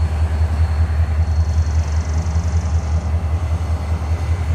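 A freight train rolling past on the track in North Carolina, a loud, steady low rumble of wheels and cars with rhythmic pulsing and a faint high whine, close by.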